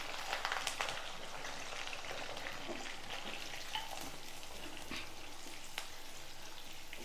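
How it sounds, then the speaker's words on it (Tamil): Small onions frying in a pan for mutton varuval, a dense crackling sizzle like light rain, steady throughout with occasional stirring scrapes, close and fairly quiet, with no speech. "வெங்காயம் நல்லா ப்ரௌன் கலரில் வதங்கணும்"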